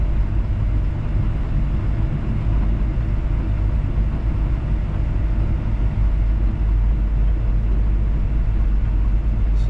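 A D51 bulldozer driving in second gear, a steady, loud low engine rumble and drone that holds constant throughout with no pauses.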